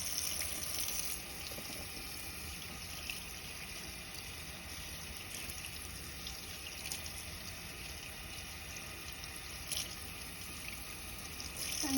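Water running steadily at a sink while hands are rinsed held downward during a handwashing routine, a continuous soft faucet stream with a faint background hiss and no talking.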